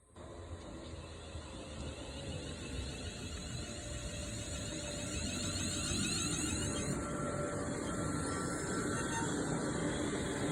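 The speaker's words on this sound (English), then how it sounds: "the 2052 London North Western Railway service to Birmingham New Street is about ready to go" Passenger train from London North Western Railway, a night service to Birmingham New Street, pulling away from Tile Hill station on the West Coast Main Line; a steady, building rumble and hum grows louder over ten seconds, with no talk.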